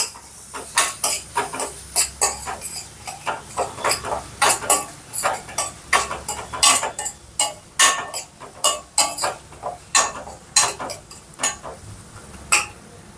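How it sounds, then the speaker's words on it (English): A spoon clatters against a cooking pot while turmeric is stirred into a South Indian ridge gourd curry with milk and green chillies. The sharp scraping clinks come close and steady and repeat irregularly throughout. "And then we are adding turmeric. And give it a good mix."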